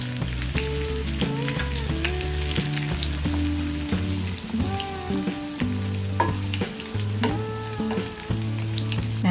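Spices and curry leaves tempering in hot oil in a pan for foxtail millet pongal with black peppercorns, green chilies, cashews and asafoetida, a loud steady sizzle and crackle that goes on throughout, close by, with no voices.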